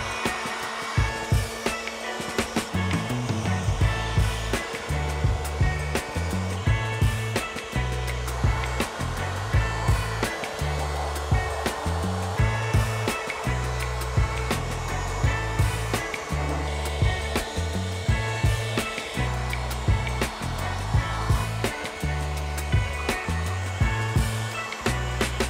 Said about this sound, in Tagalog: So ito parang tong leaf blower.